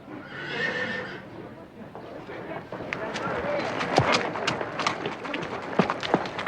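A horse whinnies near the start, followed by a rush of clattering, scuffling movement with sharp knocks that builds louder toward the end.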